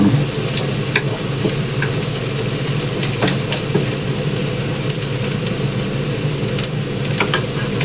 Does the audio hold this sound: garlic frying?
yes